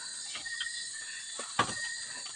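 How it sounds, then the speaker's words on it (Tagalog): Crickets chirp steadily on a quiet mountain at night, a high continuous trill with a few brief nearer chirps standing out over the hush. "Ang daming mga kuliglig."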